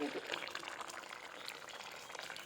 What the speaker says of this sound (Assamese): এয়া তাতে দি দিছোঁ মাছকেইটা আৰু এতিয়া অকণমান উতলিবলৈ দিম